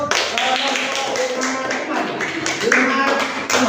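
Students in a classroom clap for a classmate, a short, steady patter of hands under and alongside a teacher's voice.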